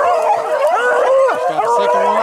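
Hunting dogs bay and yelp during a rabbit hunt in rough terrain: overlapping howls, yips and whimpering barks rise and fall continuously, loud and close, with someone talking underneath.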